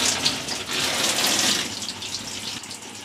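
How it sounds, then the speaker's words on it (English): A shower head runs with both hot and cold taps wide open, giving a steady, fairly close hiss of spraying water that continues throughout without any talk. "that's the pressure we get out of the shower head with both hot and cold, run them wide open"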